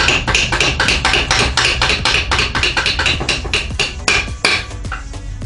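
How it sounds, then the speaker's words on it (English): Repeated hammer blows knock out the lower shock bolt on a 2018 Honda Grom during swingarm work, a dense series of sharp metallic strikes in irregular bursts, loud and close throughout. "I'm gonna need a hammer."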